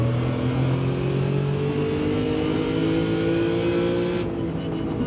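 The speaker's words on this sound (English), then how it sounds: "This car sounds pretty amazing. This Lexus V8." A Lexus V8 race car engine in Gran Turismo drones loudly, its pitch rising as it accelerates, then easing slightly near the end.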